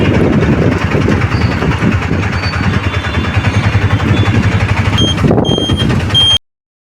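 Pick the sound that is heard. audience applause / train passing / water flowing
train passing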